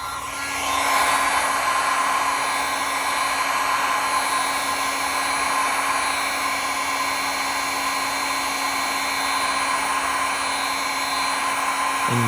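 A heat gun on its high setting blows steadily on a 3D printed plastic battery mount for Kobalt 24V tools, a loud continuous whooshing hum with a fixed motor whine that runs unbroken from start to finish, with no talk.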